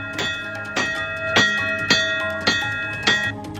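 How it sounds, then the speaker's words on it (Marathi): A bell struck in a steady rhythm at a protest outside the Nashik municipal corporation gate, six loud metallic clangs about half a second apart, each ringing on with bright overtones. "नाशिक महापालिकेच्या गेटवर मनसेनं घंटानाद आंदोलन केलंय"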